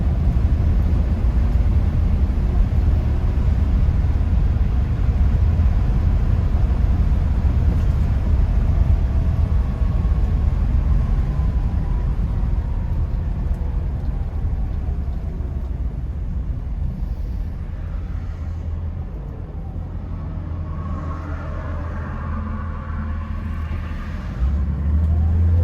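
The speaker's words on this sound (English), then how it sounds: "you do hear a little bit of a hesitation when it seems mostly when it's shifting into third gear" A 1964.5 Mustang pace car's engine drones continuously while driving, loud and close, its pitch sweeping upward through the gears, then easing off and settling into a lower, steadier hum toward the end.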